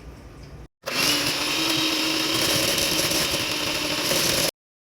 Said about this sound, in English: Let's cream together the shortening and sugar.